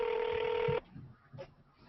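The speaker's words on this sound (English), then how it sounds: "Can y'all hear that dial tone?" Steady telephone dial tone, loud and sustained for under a second before cutting off abruptly, followed by faint background noise on the line.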